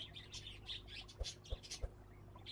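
Bird chirps from the Exotica: Petshop Simulator video game, light repeated tweets spread across the clip, with three short low thumps in the second half.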